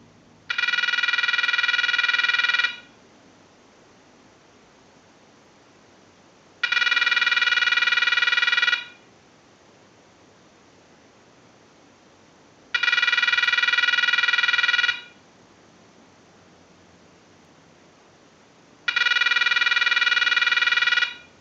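Ring cycle sent from a line analyzer to a TS22 lineman's buttset: four loud electronic warbling rings, each about two seconds, spaced roughly every six seconds with quiet gaps, no talk.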